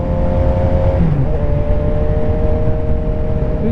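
A Suzuki GSX-S750Z motorcycle engine while riding on country roads, a loud, steady droning hum with a slight pitch shift partway through, close and continuous without talk.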